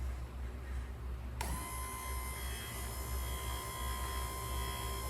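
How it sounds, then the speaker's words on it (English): An electric winch motor for launching model gliders starts up with a sudden whine and then runs steadily with a high, even tone over a low background rumble. "here's the motor running"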